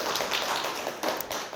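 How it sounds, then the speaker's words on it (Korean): Church congregation claps to welcome two members, a soft, steady patter of hands heard from some distance for a short moment. "우리 큰 박수로 환영하겠습니다"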